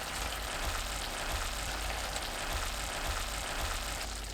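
Lotus root cooking in a covered pan, giving a steady soft sizzle with a rain-like hiss, with faint scraping moments as it is stirred.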